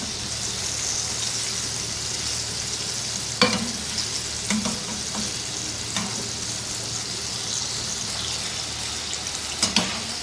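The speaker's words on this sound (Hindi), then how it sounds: "नाइस गोल्डन कलर में फ्राई करेंगे इसको।" Chicken pieces fry in hot oil for a restaurant-style crispy golden fry, giving a constant close sizzle broken by a few sharp stirring clicks and knocks.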